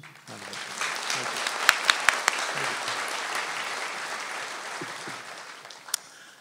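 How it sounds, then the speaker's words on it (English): An audience in a hall gives sustained applause for a woman at a conversation event, a dense, even roar of clapping with a few sharper, closer claps standing out before it tapers at the end. "And give her an applause."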